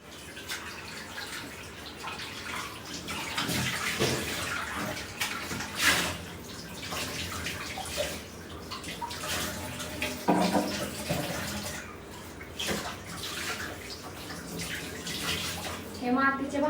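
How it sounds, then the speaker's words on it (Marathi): Running water splashes continuously as a clay pot is washed, with clinks and scrubbing, and a voice speaks faintly in the background. "चला भांडे धुवून घेऊन म्हणजे हे भांडे धुवून घेऊया"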